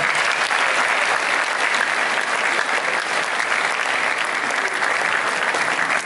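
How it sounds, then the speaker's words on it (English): Sustained, dense audience applause fills a conference keynote hall, loud and steady throughout with no pauses and no talk over it. "So give yourself a round of applause."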